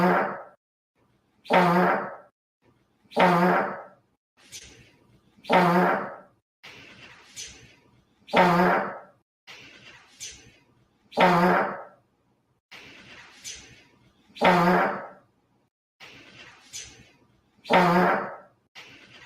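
A voice imitating fart sounds with a series of about a dozen short, blurting, raspy bursts spaced at fairly even intervals, loud and close, with brief quiet gaps between them.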